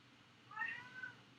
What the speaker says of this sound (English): My cat's saying hi.